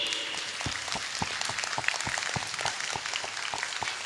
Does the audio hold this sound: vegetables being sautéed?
no